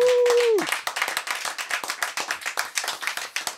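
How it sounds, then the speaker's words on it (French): Audience applause during a French radio broadcast, a quick patter of hand claps taking over right after a voice trails off, close and lively for a few seconds. "je voudrais quand même qu'on applaudisse Monsieur Julien."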